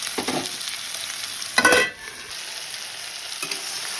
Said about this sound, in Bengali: এই 2 মিনিট পরে একটু নেড়ে দিচ্ছি নাড়াচাড়া করে। দেখুন আমার ভাজা ভাজা প্রায় হয়ে গেছে।